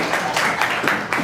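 Audience clapping at a retirement function held at a government junior college, a thin, scattered patter of hands that swells in short bursts over about a second.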